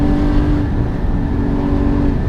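A 2016 Porsche Cayman GT4 engine rumbles steadily with a deep, throaty exhaust note, held at a constant rev for a couple of seconds, close and loud.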